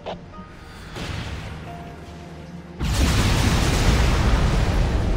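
Bombs exploding in the real-time strategy game Halo Wars: a rumbling blast builds, then a loud, sustained roar of explosions erupts and fills the rest, heavy and close with no voices.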